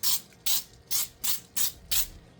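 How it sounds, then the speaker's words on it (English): Pam Perfect Release cooking spray is sprayed onto a baking pan for unleavened bread in six short, evenly spaced hissing bursts, close and crisp, with brief quiet gaps between them. "I'm going to go ahead and spray my pan, paying special attention to the corners."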